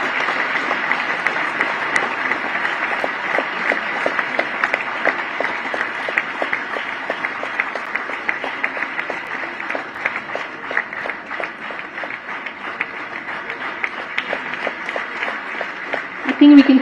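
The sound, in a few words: audience applause at anniversary celebration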